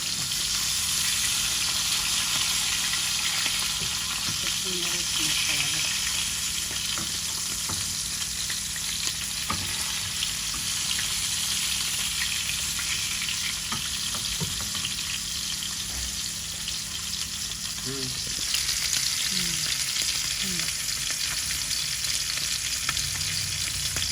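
A curry of surma fish, eggplant and potato fries loudly in a pan, a continuous hiss with scattered stirring scrapes and small pops, steady from start to finish.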